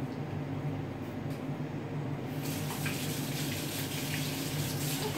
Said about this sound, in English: Don't forget the soap. Wash it really well.